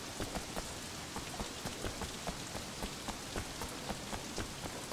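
Steady rain falls in the open-world video game Sleeping Dogs, a dense, continuous patter of drops striking surfaces at moderate volume, with no one speaking.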